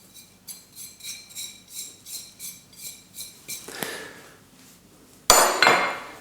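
A bowl of flour, instant mashed potato, herbs and spices is stirred in an even rhythm of about a dozen light clinking strokes, then a brief louder knock near the end.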